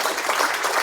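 Audience at a city's State of the City address giving a short, even wash of applause, dense and steady with no distinct single claps.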